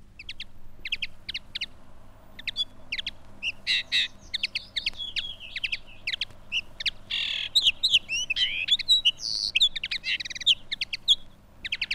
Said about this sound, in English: The linnet can be heard in every month of the year, but in the autumn his pleasant twittering often is better appreciated.